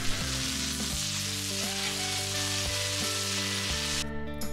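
Meat searing on a BBQ griddle accessory, a loud continuous close sizzle and crackle that runs unbroken for several seconds with no talking.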